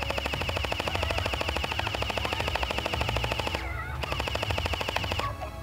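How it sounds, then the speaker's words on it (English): AKM-47 gel blaster firing gel beads at a target about 30 feet away, a loud, rapid full-auto stream of snapping shots that runs nearly the whole time with one short break near the end. "We are now 30 feet away from the target with the AKM-47 gel blaster. 3, two, one, firing."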